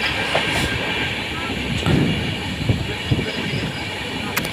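Train running at speed just after clearing two tunnels, a steady loud rumble of wheels and carriages throughout with faint clatter and occasional higher screeches.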